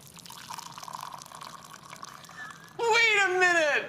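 Hot water is poured in a steady, soft liquid stream for a few seconds, then a voice comes in over it.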